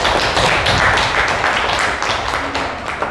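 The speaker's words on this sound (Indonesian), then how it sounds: "Maka kasih tepuk tangan buat teman kita" A classroom full of people claps steadily for about three seconds, dense and close, with the applause gradually thinning toward the end.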